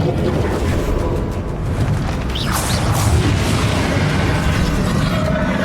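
A heavy booming blast from the Confringo explosive spell in Hogwarts Legacy, a dense, loud burst with a rushing crackle, set within continuous battle noise.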